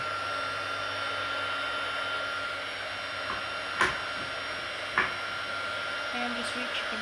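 Heat tool blowing on alcohol ink painted on a playing card, a steady faint whirring hiss running throughout, with a couple of small clicks or knocks.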